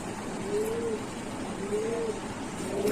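Pigeons at a pet pigeon shop give soft, low cooing calls, three drawn-out coos repeating about once a second over a steady background hum, moderately close.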